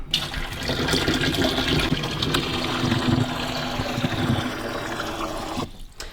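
The infuser unit of a De'Longhi Magnifica coffee machine being plunged into water, a loud continuous rushing and gurgling splash that cuts off abruptly near the end, with no talk.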